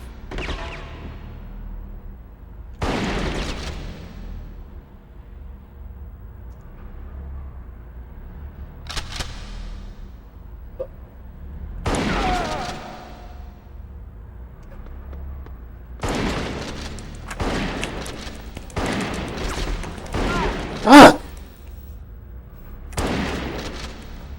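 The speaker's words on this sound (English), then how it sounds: "Punksky, shoot the other guy for a change." Scattered gunshots and booming blasts in the video game Bad Boys Miami Takedown, single shots spaced seconds apart with a few closer bursts and one sharp loud crack, set against near silence.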